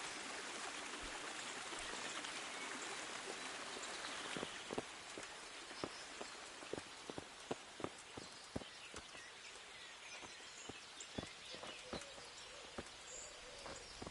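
Steady rushing of stream water in Kingdom Come: Deliverance, a broad continuous wash with sharp clicks and drips scattered through its second half.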